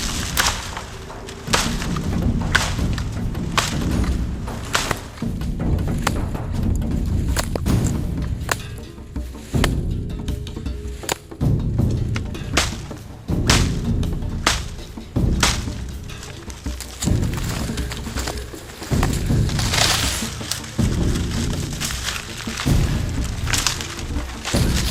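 A blade hacks into a saw palmetto stalk outdoors, landing repeated heavy chopping thuds and splintering whacks in an uneven rhythm, close and loud, for about twenty-five seconds.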